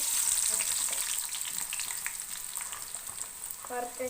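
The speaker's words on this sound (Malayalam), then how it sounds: "എടുക്കട്ടെ മേ അപ്പോൾ നമുക്ക് സബോള ഇട്ട് കൊടുക്കാം" Onions frying in hot coconut oil give a steady, close, bright sizzle with crackling hiss throughout, plus a few light utensil clinks near the end and no talk.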